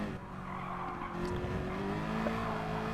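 Group 3 Citroen race car in Gran Turismo Sport, its engine holding a steady, sustained drone with faint tire noise throughout, no voices over it.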